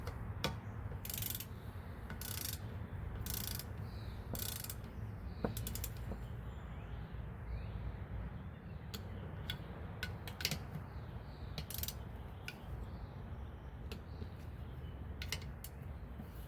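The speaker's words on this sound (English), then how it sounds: "Gives a nice loud click" Torque wrench clicking repeatedly while a Honda GCV190 small engine is assembled, set to nine foot-pounds; a series of sharp, close clicks recur at irregular intervals over a steady low background hum.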